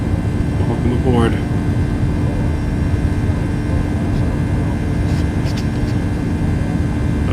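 Flight deck of a Flight Factor Boeing 757-200 in the X-Plane 12 simulator, cruising out of California: a steady, even cabin and engine drone with a constant hum throughout, and a voice talking over it.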